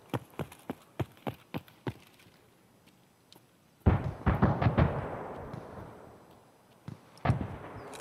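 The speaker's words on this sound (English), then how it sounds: "I'm hearing footsteps" Footsteps in Escape from Tarkov thud in a quick, even run of about seven steps, then go quiet. Loud, booming bursts of gunfire or blasts follow, along with scattered impacts.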